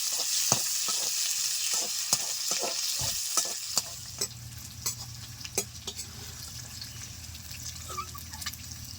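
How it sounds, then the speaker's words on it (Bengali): Pre-fried shrimp being fried again with potatoes in a pan, with a steady close sizzle and repeated sharp clicks of stirring and scraping against the pan throughout. "মাছগুলো আগে থেকেই ভাজা ছিল, আমি তবুও একটু আলুর সঙ্গে আরেকবার ভেজে নিচ্ছি।"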